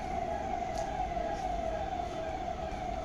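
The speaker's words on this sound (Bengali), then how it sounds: "অ্যাম্বুলেন্স যাচ্ছে, অ্যাম্বুলেন্স টুই টুই টুই।" A steady siren drones through dense street noise, sounding fairly distant and continuous rather than rising and falling, with traffic rumble underneath.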